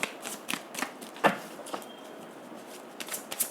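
Tarot cards are shuffled by hand for a reading, with brief papery riffles and soft snaps spaced unevenly at close range against quiet.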